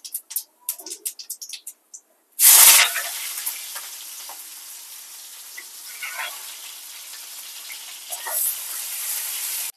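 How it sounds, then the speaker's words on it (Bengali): After a few quiet kitchen clicks, chopped garlic and onion hit hot oil already tempered with cumin and dried red chilli, bursting into a loud sizzle. The sizzle settles into a steady crackling fry, with a brief stirring flare near the end. "পেঁয়াজ কুচি। এটা একটু ভাজা ভাজা হয়ে যাক।"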